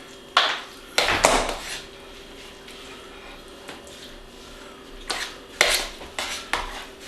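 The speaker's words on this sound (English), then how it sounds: "Take the rice, stir in some of this soup and gravy." A spoon clinks and scrapes against a dish while soup and gravy are stirred into cooked rice for a pork chop and rice casserole: a handful of sharp, close metallic knocks in irregular bursts, with quiet gaps between and no voices.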